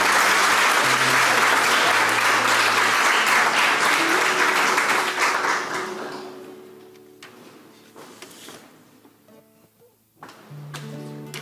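Audience applause at a municipal council session honouring a local woman, a loud dense burst of clapping that fades after about six seconds into sparse scattered claps and room noise, with a low hum underneath.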